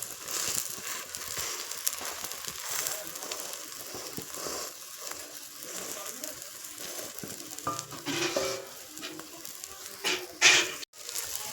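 Egg with onions fries in oil in a pan, a soft, continuous sizzle with occasional crackles and light scrapes of a spatula, ending with a brief clatter.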